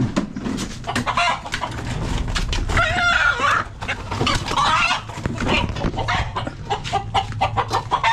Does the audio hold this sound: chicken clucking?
yes